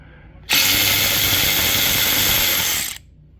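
A DeWalt DCF503 cordless ratchet is triggered once, giving a loud, close, steady whirring buzz that lasts about two and a half seconds before stopping abruptly.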